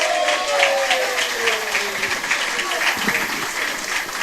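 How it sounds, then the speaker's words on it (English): Applause from an audience rises after a speech at a political engagement event in Ghana, a steady crowd clapping heard under a voice talking over it through the whole stretch. "A round of applause."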